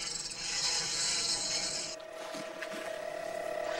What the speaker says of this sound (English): Okay, fire up the engine first, Mate Larry.